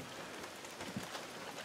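Steady rain falling outdoors on a garden of gladiolus, a soft continuous patter with a few louder drops, close and unbroken.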